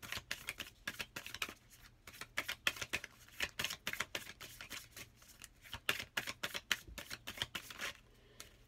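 Tarot cards being shuffled by hand, a rapid run of crisp riffling flicks and soft slaps repeating steadily for several seconds, close and fairly quiet with no talking.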